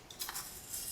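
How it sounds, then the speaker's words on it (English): A metal spoon scrapes and scoops birdshot out of emptied shotgun shells, giving a few quick, close metallic clinks and rattling scrapes over about a second. "Get a spoon and reload."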